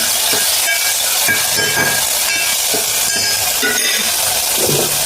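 Amti tempering frying in oil under a lid, a loud continuous hiss and sizzle with faint irregular bubbling pops throughout, no voices.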